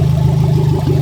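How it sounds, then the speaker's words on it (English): Toyota MR2 Spyder with a turbocharged 1ZZ engine that is burning oil, idling steadily with a low, even, throbbing hum, close and alone. "It's been 20 minutes now, it's been idling"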